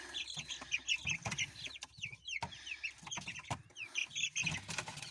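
Chickens, a grey one among them, clucking and chirping close by as they come out of a cage, busy overlapping calls with scuffling and wing rustles.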